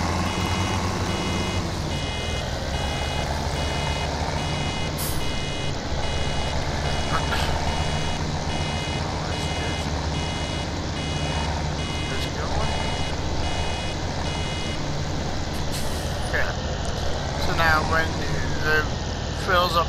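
A steady electronic warning beep repeats from a straw-harvesting machine in the Farming Simulator 17 video game, sounding over a constant engine drone for most of the stretch.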